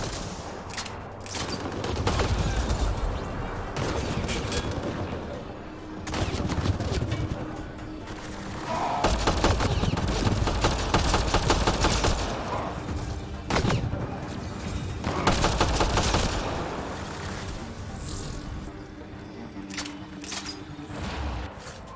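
Sustained gunfight in the video game Mass Effect: Andromeda, repeated loud bursts of rapid shots and booms throughout, dense and close, with game ambience between volleys.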